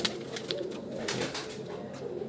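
Breeder pigeons of the Cheena type coo close by in a loft, giving soft rounded coos with a few sharper bird calls and wing or body rustles. The sound is fairly quiet and steady.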